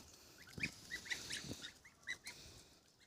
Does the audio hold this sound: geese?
yes